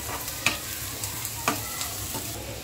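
Onion frying in a pan gives a continuous soft sizzle, broken by a few sharp stirring clicks against the pan, close by with no talking.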